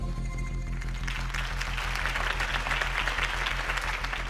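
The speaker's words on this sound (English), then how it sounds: "could have heard that applause" Crowd applause after a Harvey Dent campaign speech in Batman: The Telltale Series, a steady wash of many hands clapping that grows slightly fuller, with a low background hum underneath.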